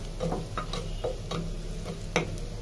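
Spices fry quietly in a small saucepan, a soft sizzle broken by light, regular taps and scrapes of a spoon stirring them.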